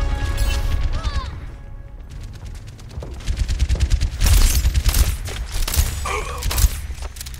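Gunfire in the hero shooter Overwatch during a payload match, with dense rapid weapon bursts that swell from the middle of the clip onward, mixed with game effects and occasional voice lines.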